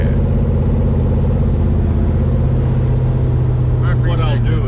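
A family-owned 1970 Gasser barn-find car drives along with a deep, steady engine rumble close by; its throbbing low drone holds throughout, and faint voices rise near the end.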